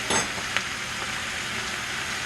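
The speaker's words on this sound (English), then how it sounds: "What I'm going to do now is I'm going to stir this in real good" Pepper steak with minced garlic being stirred in a hot pan, giving a steady sizzle with a few brief scraping strokes near the start, close and moderately loud, with no talking.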